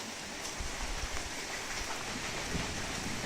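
Steady rain falls around the Adam's Peak pilgrimage route at night, a continuous soft hiss of drops close by with a few louder patters, no voices.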